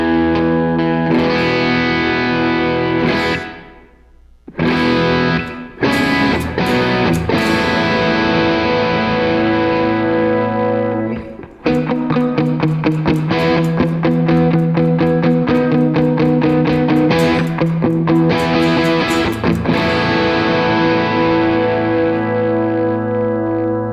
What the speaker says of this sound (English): This gives us a very nice short hall sound that really just adds a nice sense of space and width to the sound